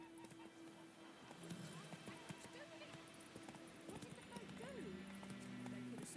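The horse Roach in the video game The Witcher 3 gallops with quick, close clip-clopping hooves throughout, and a whinny is heard. Someone speaks over it and game music hums in the background.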